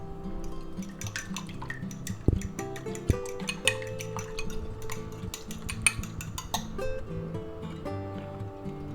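An egg and bread mixture is stirred in a bowl, with soft wet sloshing and scattered clinks of utensil against the bowl at close range, fairly quiet and with no speech.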